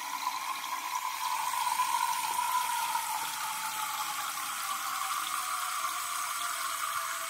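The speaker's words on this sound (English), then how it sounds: "So I'm going to fill this glass with water." Hot tap water runs steadily through an aerator into a glass, a continuous close hiss and splash with no talking.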